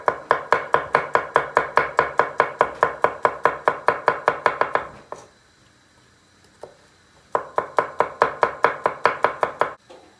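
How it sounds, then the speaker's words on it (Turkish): A knife chops garlic rapidly on a cutting board in a steady, even rhythm, pauses briefly, then resumes the quick tapping strokes. "Şimdi sıra geldi sarımsakların doğramaya."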